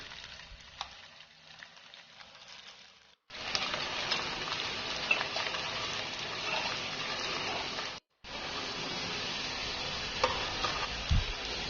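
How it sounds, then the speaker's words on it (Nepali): Soybeans fry in hot oil, a dense steady sizzle that runs on with a couple of brief breaks, close and fairly loud, with no talk. "यसरी थोरै थोरै गर्दै एउटा एउटा गर्दै राखेर यसलाई रातो हुने गरी मजाले फ्राई गर्नुपर्छ।"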